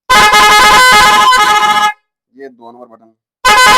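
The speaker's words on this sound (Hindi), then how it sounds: "हॉर्न की 4 आवाज़ वाली किट का वो कनेक्शन मुकम्मल हो गया है।" A car horn fitted with a four-tone horn kit blares loudly for about two seconds, stops while someone speaks briefly, then blasts again at close range.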